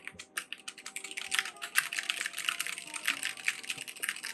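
Rapid clacking keystrokes on a Logitech G915 or SteelSeries Apex Pro mechanical keyboard, close and steady over a few seconds, tapping along in an uneven rhythm.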